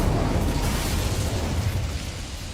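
Incendio fire spell cast in Hogwarts Legacy: a dense, loud fiery whoosh and roar with a crackling burst, sustained steadily through the short moment with no talk.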